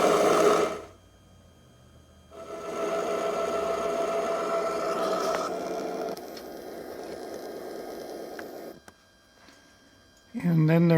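A HandCab DC unit runs up from idle to notch 4: a steady mechanical hum and whine holds for several seconds after a short pause, drops slightly in level, then cuts out before a brief burst of another sound at the end.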